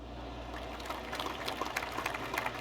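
A golf ball dropping into a water hazard in PGA 2K23, heard as a soft splashy, trickling wash of water over a low background hum, brief and moderately close with no talking.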